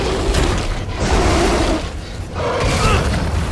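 Loud booming explosions roar in heavy bursts, one after another, with a mechanical rumble between them, in the video game Shadow Warrior.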